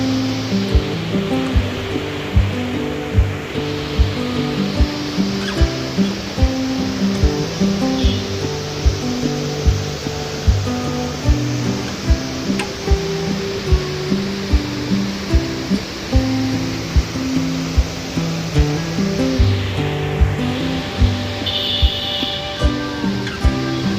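Rushing river water at the Rudraprayag confluence in the Himalayan hills makes a loud, steady roar that lasts the whole time, with a rhythmic musical track layered over it.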